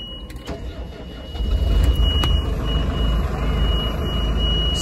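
A 2012 RAVO 540 street sweeper's engine cranks after a few faint clicks and catches, settling into a loud, steady low idle rumble with a thin high whine above it.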